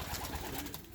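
Pigeons in a loft coo softly in a brief, faint, repeated burble, heard close with no talk.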